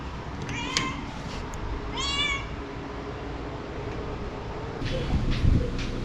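A black-and-white stray cat meows twice in clear, rising cries, and a fainter mew follows later. The calls sound fairly close over steady outdoor background noise and some low rumbling.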